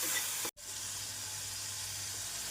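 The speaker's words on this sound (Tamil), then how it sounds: "வெங்காயம் 1 நிமிடம் வதங்கவும் 1 ஸ்பூன் இஞ்சி பூண்டு விழுது சேர்த்து விடலாம்." Chopped onions sautéing in a pan for wheat dosa, with ginger-garlic paste about to go in: a steady bright sizzle that cuts out briefly for a split second, then resumes, continuous and close.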